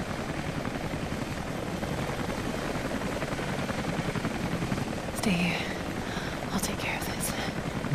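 A helicopter in the video game Rise of the Tomb Raider gives a loud, continuous rotor thrum throughout, with a brief voice near the end.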